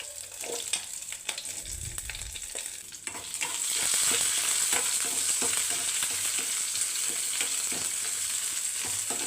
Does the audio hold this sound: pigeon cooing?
no